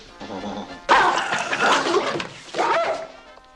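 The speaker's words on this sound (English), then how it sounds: "Does your dog bite?" Dog attacking a man: a sudden loud burst of snarling and barking with a crash, then scuffling and whimpering yelps, a second surge of growling, all close and chaotic.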